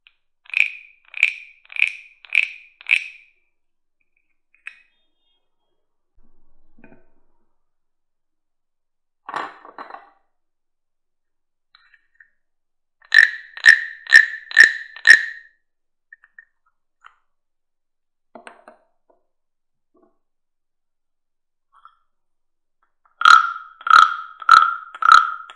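A jumbo wooden frog instrument is played with bursts of rapid ratcheting croaks in quick runs of four or five, separated by quiet gaps and a few lone scraping taps, close and dry.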